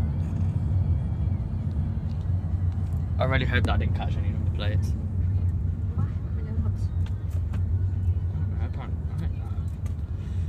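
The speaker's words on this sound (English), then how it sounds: "Traffic. Look what we're stuck in." Road traffic around a car stuck in a jam: a constant low engine rumble and idling hum close by, with people talking over it.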